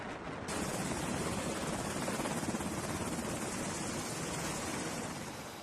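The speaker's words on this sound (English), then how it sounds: "the helicopters can simply take off vertically" A helicopter on an aircraft carrier gives a steady, dense rotor and turbine roar that begins abruptly and holds at a constant close, loud level for several seconds, with no voices.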